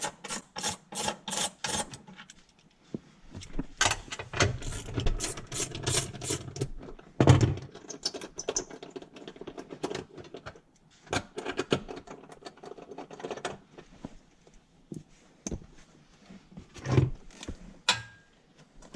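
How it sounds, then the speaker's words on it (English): Hand ratchet undoing the bolts on a fuel filter bracket of a 2009-2014 Subaru Outback or Legacy: rapid close clicking bursts in repeated runs with short pauses between, no talk. "I'm doing it the slow way today with the hand ratchet"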